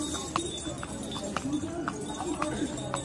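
A ridden horse clip-clops along the Ridge ground in Shimla, its hoofbeats landing in an even, moderately close rhythm while a voice talks over them.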